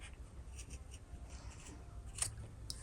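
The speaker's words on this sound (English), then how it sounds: "I'm gonna go and cut just a bit" Scissors snipping through fabric backed with interfacing while a small mini pouch is made, a few quiet, close cuts with soft rustling between them and no talking.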